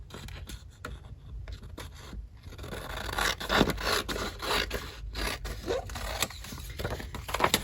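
Paper being cut and handled for a junk journal page, with repeated scraping, rubbing snips close up, sparse at first and then busier and louder through the second half.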